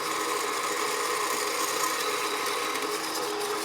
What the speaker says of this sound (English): one of the main things I liked about this bandsaw, is that it could run horizontal for just cutting off metal